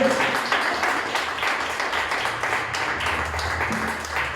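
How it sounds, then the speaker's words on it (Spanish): A church congregation claps hands as an offering of praise during a worship service, producing steady, moderately loud clapping with a low murmur of voices beneath it. "Dan una ofrenda de palmas al Señor."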